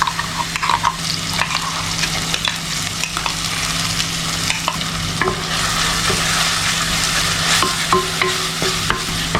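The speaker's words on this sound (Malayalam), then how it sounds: "ഈ തേങ്ങയുടെ അരപ്പ് ഒരു മീഡിയം ഫ്ലെയിമിൽ 5 മിനിറ്റ് നേരം നമുക്കിങ്ങനെ വഴറ്റി കൊടുക്കാം" Coconut paste for a Kerala moru curry sautés over a medium flame, giving a loud, steady sizzle while a spoon scrapes and stirs in frequent short strokes, and nobody speaks.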